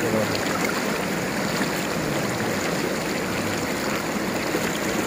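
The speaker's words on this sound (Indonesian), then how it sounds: "kita dengarkan suara aliran air sungai yang jernih ini nih." A clear river stream in a village in Glenmore, Banyuwangi, flows under a bridge with a steady, full rush of water that stays loud and close throughout, with no voices.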